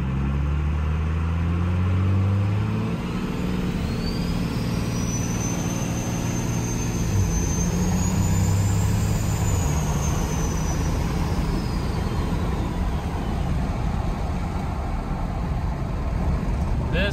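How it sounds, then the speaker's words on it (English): A 2002 Cummins diesel truck fitted with homemade compound turbos makes a half-throttle pull, a loud continuous engine roar with a rising then falling turbo whistle, heard from inside the cab. "That was half throttle, guys. Building 40 pounds of boost like it's nothing."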